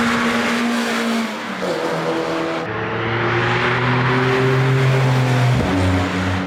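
A Renault Clio RS200 Cup race car with a newly forged engine drives on the Donington Park circuit during a track day. Its engine drones loudly and steadily, and the pitch drops at each gear change as it accelerates past.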